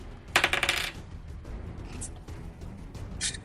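Dice rolling on a table during a tabletop game: a short clattering burst of rattling dice near the start, followed by a couple of faint clicks, close and with no talking.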